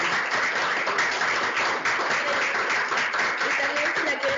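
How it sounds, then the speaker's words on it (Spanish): Audience applause at the close of a talk on the psychosocial impacts of migration, a steady dense clapping wash lasting the whole stretch, fairly loud and even, with faint voices mixed underneath. "le damos un fuerte aplauso."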